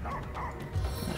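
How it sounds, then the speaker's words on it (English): A dog in the video game Divinity: Original Sin gives short yipping barks and whimpers, a few quick close calls over a low game background. "Oh, hey, don't kill the dog."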